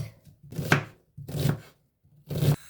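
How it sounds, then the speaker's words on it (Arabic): A knife chops a small onion into cubes on a cutting board, three distinct bursts of cutting strokes at an even pace, close and clear with no voices. "بصلة صغيرة تقطعها مكعبات."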